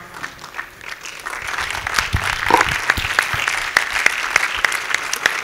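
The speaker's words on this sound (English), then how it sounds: "give them a standing ovation" An audience at a fuel industry expo panel discussion applauds during a standing ovation, with clapping building from scattered claps to a steady, moderately loud round.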